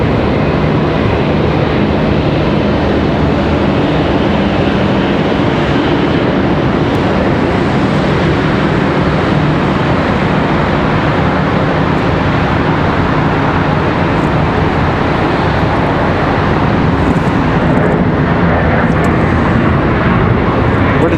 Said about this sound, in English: This one coming from St. Louis, American Airlines 2475. Nice A320.